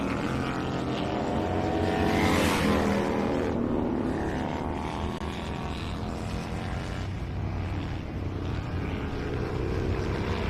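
Bagger motorcycles and superbikes racing at Gingerman Raceway, engines roaring loud and close in a sustained howl that swells to a peak as the bikes pass, then holds a steady drone, with no voices.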